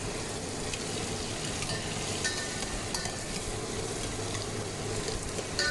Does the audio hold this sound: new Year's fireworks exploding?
no